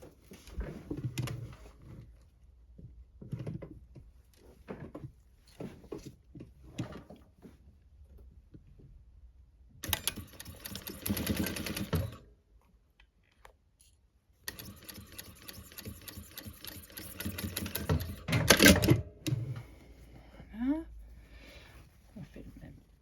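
A sewing machine stitches a dress sleeve in two sustained whirring runs, close and fairly loud, separated by handling noises and someone talking between them.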